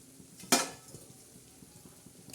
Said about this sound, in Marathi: आता ही चटणी आपण अशी खरपूस भाजणार आहोत